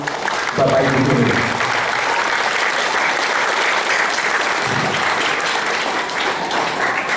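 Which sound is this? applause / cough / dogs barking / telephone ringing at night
applause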